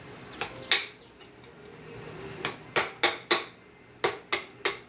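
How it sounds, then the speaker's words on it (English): A hand tool knocks bark off an oak burl: sharp, separate woody strikes, two early and then quick bursts of three, fairly close, with quiet between them. "We are debarking it right now so we can see what we have to play with underneath."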